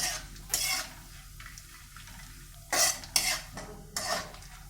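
Dry fruits sautéed and stirred in a pan while making carrot halwa: a soft, steady sizzle broken by a few louder scraping stirs of a spoon against the pan, close up, with no talking.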